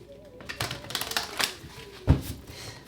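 A deck of tarot cards is shuffled by hand during a reading, producing quiet riffling and flapping bursts with a sharper tap near the end, close but faint.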